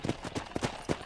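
Horse hooves galloping in the Red Dead Redemption video game, four quick, close, moderately loud clip-clop thuds in a rolling rhythm.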